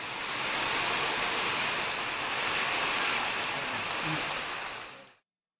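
Heavy rain falls around the Tenkasi area of Tamil Nadu as a dense, steady roar of drops that holds evenly for several seconds before fading out, with no voices.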